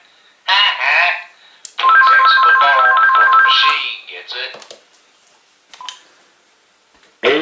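DTMF dialing tones play through an AT&T EP5995 speakerphone, a quick run of beeps followed by a longer sustained pair of tones, with a voice speaking briefly before and after and scattered short clicks.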